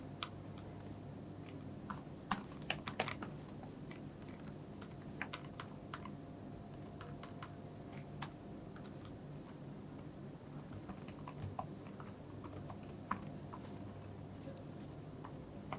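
Steady, quick typing on a computer keyboard while code is entered, crisp close keystrokes and occasional heavier clacks continuing throughout over a constant low background hum, no talking.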